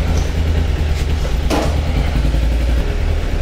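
A 1200cc motorcycle engine runs with a steady, loud, low rumble close by, with a brief clack partway through and no talking.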